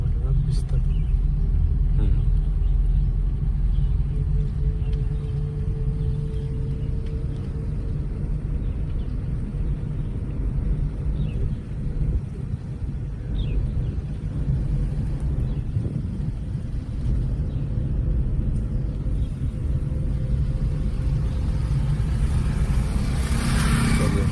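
A car on a driving lesson rolls along with a low, steady engine rumble that swells gently as it speeds up, while people talk over it inside the cabin.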